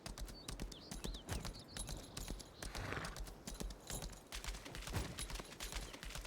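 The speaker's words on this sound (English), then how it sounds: "Cross the bridge on a horse" A horse's hooves clip-clop across a bridge in the video game Lost Ark, a steady, faint run of rapid hoofbeats with scattered sharp clatters and no talking.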